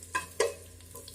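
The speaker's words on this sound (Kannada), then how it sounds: "ಈರುಳ್ಳಿ ಫ್ರೈ ಆಗಿದೆ." Onions frying in a pan for a coastal-style fish curry, a faint steady sizzle broken by a few brief stirring scrapes and clinks, with no talking.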